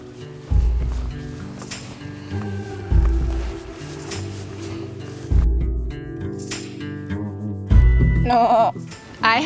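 Sheep bleating back in answer to a person's attempts to call them, a few separate bleats at moderate distance, mixed with rustling, low bumps and brief talk.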